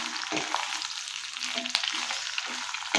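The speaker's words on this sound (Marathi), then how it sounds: "भेंडी आपण शिजवून घेणार आहे त्याच्याबरोबर लसूणही चांगला परतला जाणार आहे" Okra and garlic sizzle in hot oil for masala bhindi, a steady close crackle broken by soft scraping stirs of a spoon in the pan.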